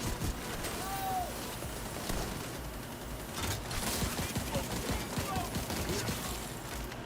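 Battle rifle fire in the video game The Division 2, a stream of repeated close shots over busy combat noise with a voice talking along over it.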